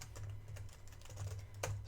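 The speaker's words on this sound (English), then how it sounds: "sorry, I'm not a very fast typer" Typing on a computer keyboard, with quick, irregular keystrokes close by and clustered in short bursts, sounding alone with no talk over it.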